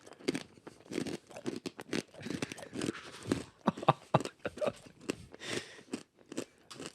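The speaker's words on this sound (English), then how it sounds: "it's really crunchy. I it's the follow. crunchiest thing I've ever heard someone eat." Loud, close crunchy chewing of food, a series of sharp irregular bites and crunches in quick succession, mostly alone with little talk.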